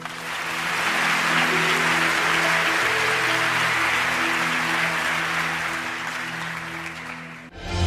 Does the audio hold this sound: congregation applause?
yes